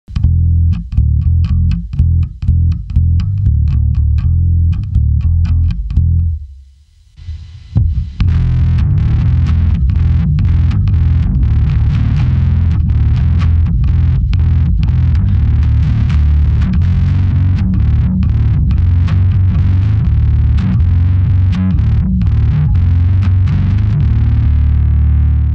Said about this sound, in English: The first mode is called drive, which is kind of like a fuzz or a really thick distortion with a sub octave.